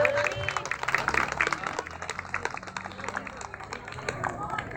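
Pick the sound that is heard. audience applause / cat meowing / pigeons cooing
audience applause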